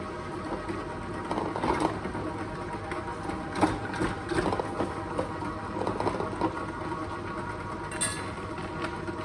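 An electric mixer beats cream cheese for a brownie batter, a steady close motor whir with uneven rattling and thumping from the bowl, running alone without speech.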